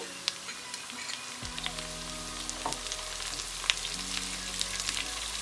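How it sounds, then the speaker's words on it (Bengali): Soft, continuous sizzle of onion paste frying in butter, with faint crackles and a low steady hum underneath. "আমি এখন পেঁয়াজ বাটাটা দিয়ে দেবো"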